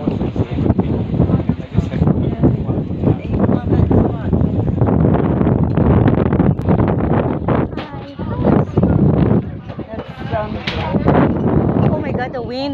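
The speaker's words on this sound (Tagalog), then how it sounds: "Oh my god, the wind." Strong gusty wind buffets the microphone at an outdoor Sunday market in a caravan park, a continuous loud roaring rumble with people talking underneath.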